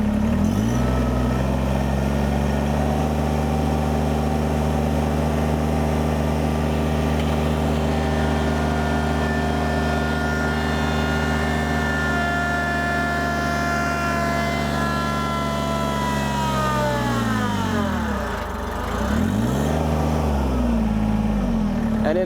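A Kubota BX23s compact tractor engine revs up toward 3,000 RPM, a steady loud drone whose harmonics climb and hold before dipping briefly near the end and picking back up.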